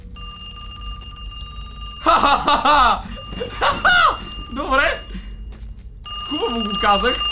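Electronic telephone ringing in a video game, a steady high tonal ring that runs throughout while someone talks loudly and excitedly over it.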